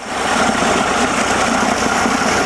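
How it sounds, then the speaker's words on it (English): A Mercury 60 hp outboard engine idles at about 600 RPM with a steady, loud, even drone and a faint vibrating rattle, and no voices over it. "We're at 600 RPM. 590, 600, right around 600."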